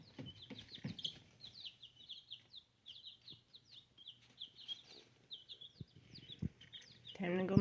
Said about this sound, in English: I don't know if that's a rooster or if that's just an aggressive hen maybe.